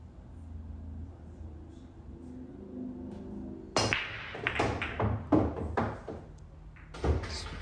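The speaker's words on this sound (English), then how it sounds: "Now for the break shot." Pool break shot: a sharp crack as the cue ball smashes into the racked balls, then a run of scattered clicks and knocks as the balls collide and bounce off the cushions, close and clear over a quiet room hum.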